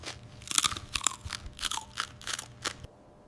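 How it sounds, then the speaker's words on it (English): Close, crisp crunching and chewing of a dried kiwi fruit snack, roughly eight sharp bites and crunches spaced irregularly, then silence. "The moment of truth. Crunch, chew, and enjoy the green magic."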